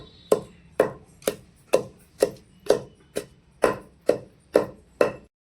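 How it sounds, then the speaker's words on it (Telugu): Fenugreek seeds are pounded in a stone mortar for tamarind green chili chutney. About eleven heavy, regular thuds land close by with no voices. "ఇప్పుడు రోట్లో మెంతులు వేసుకొని దంచుకుంటున్నాం"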